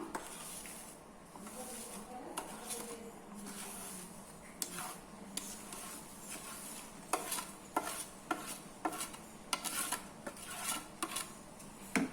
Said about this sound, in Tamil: இப்போ நம்ம சிம்மில் போட்டுட்டு ரவையை போட்டு கிண்டிக்கலாம்.